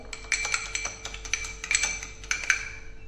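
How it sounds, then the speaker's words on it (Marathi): A utensil beats an egg mixture in a bowl, making a quick series of sharp, clinking taps against the rim in an uneven rhythm, close and fairly clear. "आता हे सर्व आपण मिक्स करून घ्यायचं आहे, व्यवस्थित असं मिक्स करायचं आहे।"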